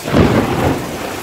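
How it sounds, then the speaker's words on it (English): Heavy rain pours down during a thunderstorm in North Philadelphia, with a steady dense roar and low rolling thunder rumbling throughout, loud and close. "it's barreling down rain right now"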